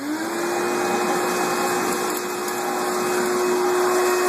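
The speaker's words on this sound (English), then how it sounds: "There's some Kydex on the ground. We're going to suck it up." A shop vacuum fitted with a cyclone separator roars steadily nearby as it sucks up Kydex plastic scraps from a shop floor, a continuous loud whine with a steady motor tone and rushing air, no voices.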